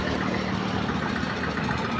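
An old 1996-model tractor idles at a tractor market, its engine a steady low, rumbling chug that runs unbroken and fairly close for the whole stretch, with no clear talk over it.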